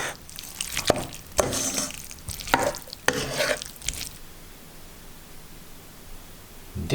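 Macaroni being stirred into merguez sauce in a pan, several scraping, sloshing strokes with a soft sizzle over the first four seconds, then a quiet simmer with only faint hiss.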